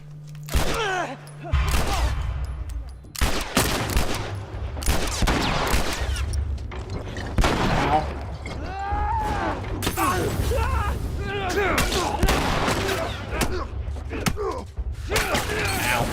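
Gunfire in The Last of Us video game rings out in repeated sharp bursts across a tense fight, mixed with clanks and scuffles, while someone talks over parts of it.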